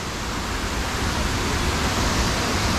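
Continuous broadband rush of the waterfall at Illikkal Kallu, heard close and loud without pause, a dense hiss of tumbling water and no talking.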